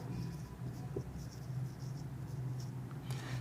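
Soft scratchy strokes of marker or chalk writing on a board in a classroom, faint and intermittent, in several short bursts over quiet room tone.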